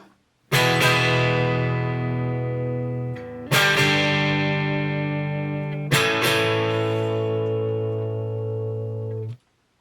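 Electric guitar on its neck pickup, volume and tone controls fully up, played through a Marshall Origin 20 amp: three loud sustained strummed chords, each ringing out for a few seconds before the next, with no talking.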